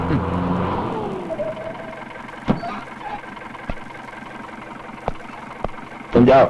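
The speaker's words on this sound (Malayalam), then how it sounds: "ദേ ജീപ്പിന്റെ ഒച്ച കേട്ടോ" A jeep engine rumbles as the vehicle arrives, loud at first and then fading to a steadier drone, with a few sharp knocks and people talking nearby.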